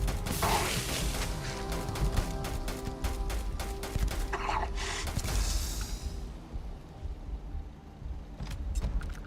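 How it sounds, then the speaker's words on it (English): Dense clattering of explosions and impacts from grenades thrown during a Starfield firefight, with repeated sharp bursts over a constant mechanical din, loud and busy, easing slightly near the end. "They're like throwing grenades at me."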